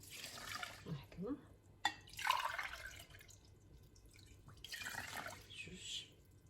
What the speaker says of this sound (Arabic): دابا غادي نكب عليه الماء